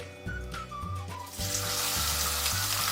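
Sliced onions, cinnamon pieces and a bay leaf fry in hot oil in a wok, a low sizzle that swells into a loud, steady crackling hiss partway through, with a faint whistle-like tone early on.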